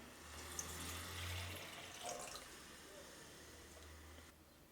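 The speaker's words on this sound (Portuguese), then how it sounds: "Vou colocar exatamente 200 ml de água." Exactly 200 ml of water poured into a pan on an induction cooktop, a faint steady trickling splash that lasts several seconds, with a low hum in the background.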